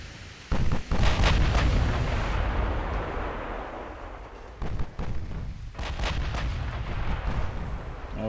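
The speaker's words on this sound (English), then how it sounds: "We need a big explosion real quick." Naval guns boom in the warship battle game Ultimate Admiral: Dreadnoughts, several heavy blasts in separate bursts with rumbling tails, loud and without talk.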